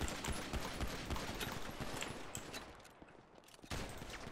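Rapid pistol gunfire from a GTA 5 Online team deathmatch pistol training round, dense bursts of close shots crackling almost continuously, briefly thinning near the middle before picking up again.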